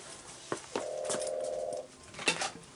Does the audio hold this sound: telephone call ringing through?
yes